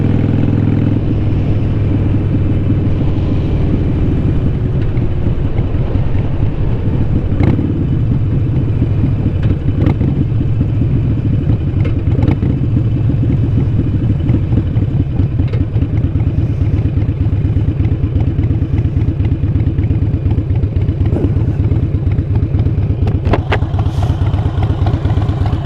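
A Harley-Davidson 883 Iron motorcycle being ridden, its engine a loud, steady, throbbing rumble that carries the whole way, along with wind buffeting and occasional clatter.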